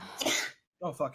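A single sharp, breathy sneeze bursts out, followed after a short pause by a brief spoken exclamation.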